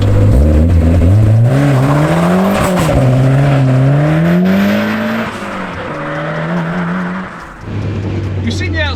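Cosworth-powered 340bhp rear-wheel-drive Mk3 Ford Fiesta driving on a damp road, its engine note climbing and falling through loud revs with a brief tire squeal, close and continuous, with talk in the car.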